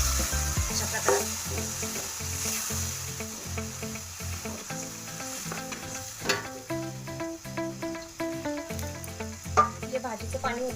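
Chicken and vegetables, cooked beforehand, are tipped into roasted masala sitting in plenty of oil and fry with a steady, close sizzle, while a soft melodic backing plays throughout.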